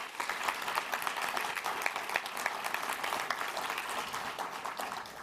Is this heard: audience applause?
yes